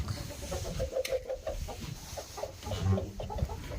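Roosters cluck in a pen on a snowy, windy day, a cluster of scattered close calls over a steady rush of wind.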